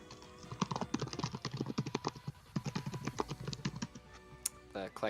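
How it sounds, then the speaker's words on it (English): Rapid clattering keystrokes on a computer keyboard, an irregular burst of close clicks with short pauses between runs, heard during a gaming tournament stream. "Clackety clackety of a keyboard, always satisfying to hear."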